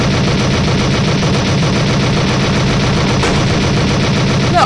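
Constant, loud rapid-fire shooting at aliens in an indie video game pitting aliens against Romans, a dense unbroken wall of gunfire with no pauses.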